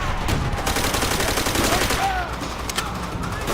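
Machine gun fire in a war shooter video game, loud sustained rapid bursts of shots filling the whole stretch with little pause.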